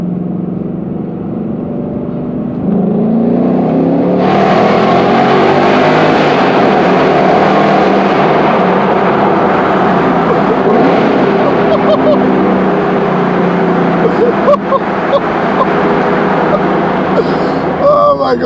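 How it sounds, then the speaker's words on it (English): A Ford Mustang engine roars and revs hard inside a traffic-filled tunnel in Pittsburgh, the sound swelling sharply about four seconds in and staying loud and echoing to the end, with voices talking over it. "we can do the first tunnel run in the Mustang"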